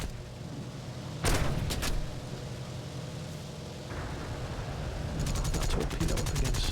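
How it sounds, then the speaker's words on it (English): Anti-aircraft flak fire in the War Thunder combat flight game, harsh bursts of rapid gunfire crackling in two short volleys early on, then a denser stream of fast shots near the end over a constant engine-like roar. "Here comes the flak"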